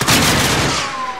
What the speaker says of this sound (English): That's all the bombs going up right now.